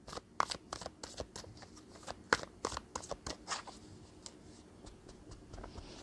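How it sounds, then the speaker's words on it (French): Tarot cards being shuffled by hand, a run of crisp rapid riffles and snapping card flicks close up, busy at first then thinning to lighter taps, with no voices. "Alors, je vais rajouter quelques cartes du tarot."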